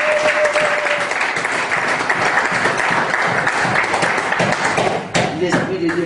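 A church congregation at a retreat applauds in a dense, steady roar of clapping that runs throughout, close and loud, with voices mixed in underneath.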